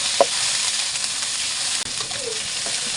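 Fatty chicken pieces fry in a pan for adobo, rendering their fat with a loud, steady hiss and crackling sizzle, broken by a light clack or stir partway through, heard up close without talk.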